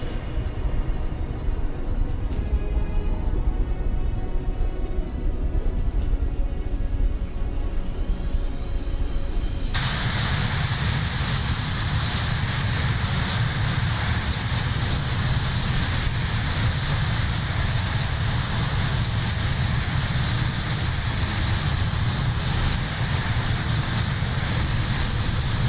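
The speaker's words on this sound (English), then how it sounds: "There goes flyby view of the aircraft." A steady propeller-aircraft drone from Microsoft Flight Simulator over the Faroe Islands holds loud and continuous throughout, its tone brightening abruptly partway as the view shifts to a close flyby.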